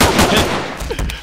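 Gunfire in the video game Zmod, a short burst of shots with dense cracking noise, loud and close, filling most of a second.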